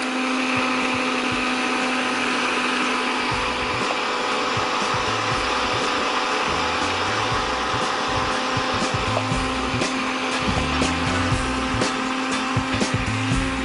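Food processor chopping salami, a steady loud motor whine running continuously with rough grinding texture underneath.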